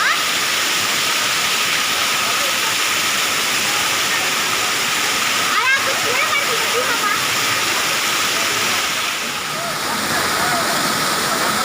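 Rushing water at Thalakona waterfall, a steady, loud, broadband roar that holds unbroken throughout, with faint voices of visitors mixed into the spray.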